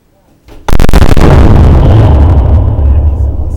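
A Bangalore torpedo demolition charge detonating outdoors: a quiet lead-in, then one sudden, massive blast whose deep rumble rolls on loudly to the end.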